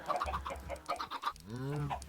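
Chickens in the video game Minecraft cluck in a series of short, close clucks, followed by a longer drawn-out squawk, with no talking over them.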